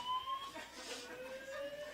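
An electronic fire alarm sounding in a university hall at West Virginia University, with thin sustained tones that repeat and shift in pitch, heard at a moderate distance under faint room noise.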